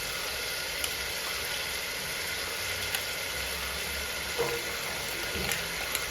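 Crushed green chilli goes into onions sautéing in a pan for Kerala-style chicken biryani. A steady, close frying sizzle runs throughout, broken by a few small clicks and pops.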